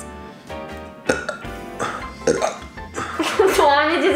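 Deliberate burps during a gross-out challenge come out as several throaty belches, close and fairly loud, mixed in with ongoing talk.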